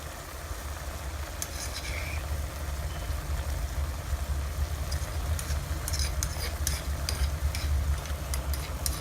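Chopped garlic, green chili and onion being mixed in a pan for an oil-free beef and potato curry, with continuous low rustling and scraping and occasional sharper clicks of the utensil.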